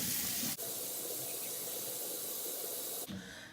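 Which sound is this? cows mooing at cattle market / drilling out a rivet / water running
water running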